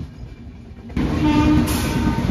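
The Silchar–Secunderabad train, arriving from Guwahati at Secunderabad, moves off toward the shed; a steady rumble of rolling rail cars swells louder about a second in and continues with a brief high horn-like tone near the end.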